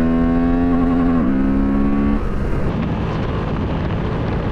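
A Honda Transalp 750 adventure motorcycle engine pulls hard, its tone climbing through a gear then shifting into a rougher, wind-buffeted roar as speed builds.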